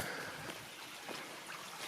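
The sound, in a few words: creek water flowing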